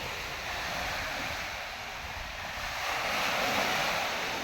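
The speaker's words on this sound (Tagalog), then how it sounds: "Malakas ng alon sa tubig guys oh." Strong ocean waves wash in a steady, loud, broadband roar that swells slightly toward the end, with some wind buffeting; no voices are heard.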